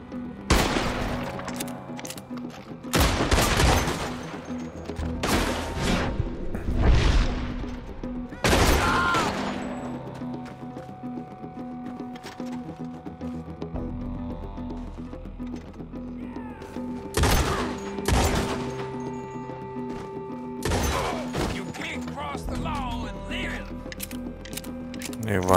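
Gunfire in Red Dead Redemption II: a series of sharp shots crack out in uneven bursts, several close together early on and more later, over a steady game soundscape with music and ambient tones.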